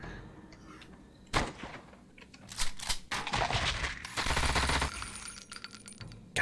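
A turret fires in the game Shadowrun Chronicles: Boston Lockdown, giving scattered metallic bursts and rapid clattering shots that build to a dense, loud stretch of fire before tapering off.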